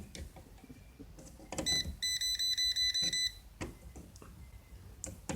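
A Klein non-contact voltage tester from an MM300 kit gives a rapid series of high, evenly pulsed electronic beeps lasting about a second and a half, close and clear, with faint handling noise around it.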